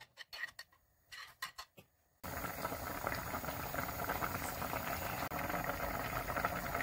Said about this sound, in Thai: เดือดนะคะเดือดไปสักพักเราก็เริ่มใส่ปลาไปเลยนะ